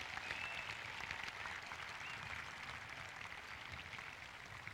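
Steady applause from a crowd at a high school graduation ceremony, a dense wash of clapping that holds even throughout, heard from some distance.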